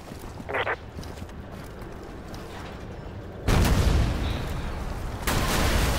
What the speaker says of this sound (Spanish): ¡Nos están lanzando toda su artillería!